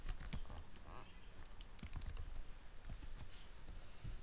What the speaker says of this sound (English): we can just click and we can type something.